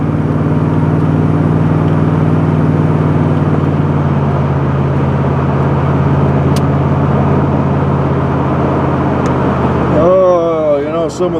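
A car engine idles to warm up a cold motor, a loud steady rumble with a low drone that holds for about ten seconds. It shifts near the end as a voice and other noise come in.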